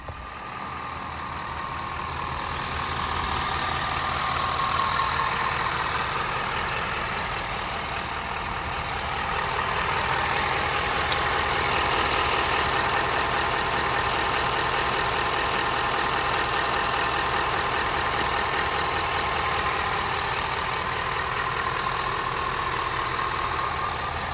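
A 2022 Ford F550 truck engine idles steadily with a low, even rumble and a faint mechanical chatter, close and continuous with no talking.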